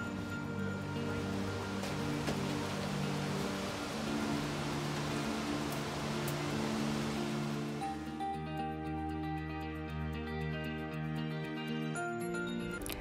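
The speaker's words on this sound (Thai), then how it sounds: "วันนี้ฝนตกนะคะ ฝนตกพรำๆ" Light drizzling rain falls on a balcony where mint grows in pots, a steady soft hiss that continues throughout, with a tonal background hum entering partway through.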